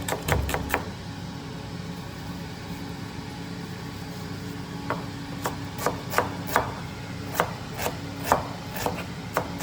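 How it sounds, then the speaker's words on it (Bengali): Chopped onion drops into a little mustard oil in a pan for a rupchanda fish do-piaza gravy, giving a steady low frying hiss with a few sharp utensil taps at the start and scattered clinks later. "এই দিলাম, পেঁয়াজ দিয়ে দিলাম"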